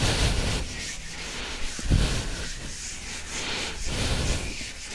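Rubbing out writing on a board during a Class 11 maths lesson on straight lines, heard as steady broadband scrubbing strokes for several seconds with a brief knock near the middle, close and fairly loud, with no voices.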